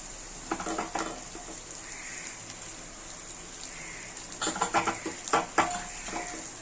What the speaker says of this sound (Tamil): இப்போ சேர்த்தாச்சு இதை நல்லா வதக்கிக்கலாம் இந்த எண்ணெயிலேயே